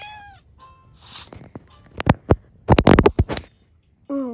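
Cartoon cat sounds from a pet doctor video game: a short meow-like cry, then a quick run of scratchy, clicky bursts and another brief mewing tone at the end, close and fairly loud with no talk.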